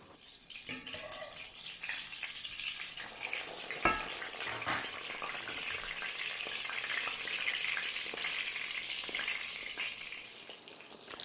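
Schnitzel cutlets frying in oil in a pan for an Oktoberfest dinner, a steady, fairly quiet sizzle broken by occasional clinks and spatters.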